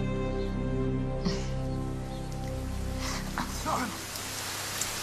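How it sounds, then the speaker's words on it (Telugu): Steady rain pours down, a dense continuous hiss with a few brief louder spatters, while faint tonal sounds and short vocal bits sit in the background. "వర్షం ఆగట్లేదు"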